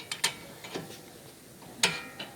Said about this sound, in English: Just go ahead, crack it loose like that